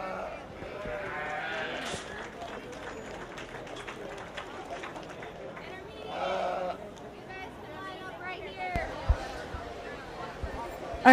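Sheep bleat intermittently at a 4-H/FFA sheep show, several calls rising over a murmuring crowd and a faint announcer's voice, with scattered shuffling and hoof movement in the arena.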